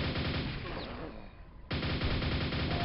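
Weapon fire from a grenade launcher in the video game Quake, rapid loud bursts of gunfire that thin out briefly mid-clip then resume hard and dense, close and aggressive.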